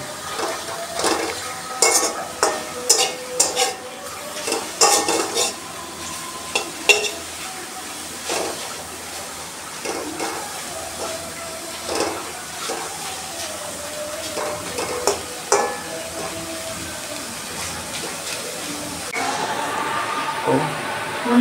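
Broken rice stir-fried in a pan for a village-style khuder bhat, with repeated scraping and clinking of a spatula against the pan over a soft sizzle, steady through the clip.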